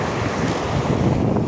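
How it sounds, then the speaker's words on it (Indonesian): Strong wind roars at a shoreline fishing spot, a dense, steady blast of buffeting noise across the microphone with no breaks, loud and unbroken throughout. "Anginnya terlalu kenceng, bro."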